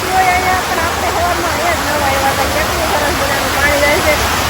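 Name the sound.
river water flowing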